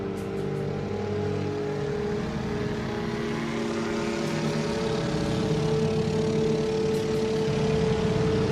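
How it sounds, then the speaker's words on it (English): A helicopter flying overhead, its engine and rotor making a loud, steady droning hum that holds constant for the whole stretch with no speech. "there's a helicopter flying above"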